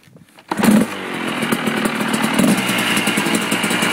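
A Kawasaki KDX 200 two-stroke dirt bike engine, warm from a recent run, catches after a brief silence and settles into a steady, close, buzzing idle with a few throttle blips, no talk over it.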